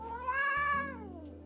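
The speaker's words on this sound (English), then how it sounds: "is this a black and white cat?" A black and white cat in the video game Calico gives one drawn-out, close meow that rises and then slides down, over a soft steady game music background.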